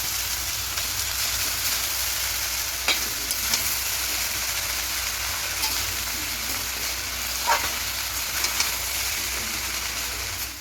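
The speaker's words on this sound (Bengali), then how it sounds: "ভাতটা আছে ওটা এখানে ফেলে দেবো এবার খুব ভালো করে মিশিয়ে দেবো" Cooked white rice being tossed and mixed into vegetarian fried rice in a small hot pan, giving a continuous even sizzle and hiss with a few faint clinks of the spatula.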